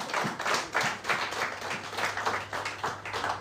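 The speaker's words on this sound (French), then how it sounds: "Applaudissez le Seigneur Jésus." A church congregation claps in rhythm, steady rounds of applause repeating throughout at moderate distance.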